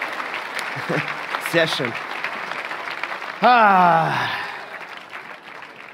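Applause from a studio audience in a TV arena show for schlager singers, a broad wash of clapping swelling up after a brief spoken word, with a voice continuing faintly over it.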